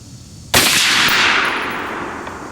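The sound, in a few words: Rock River Arms 6.5 Creedmoor rifle shots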